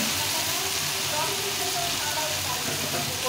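Frying hyacinth beans and potatoes in a pan sizzle steadily with a loud, continuous hiss, the sputter of hot water poured in merging into the broad crackle throughout.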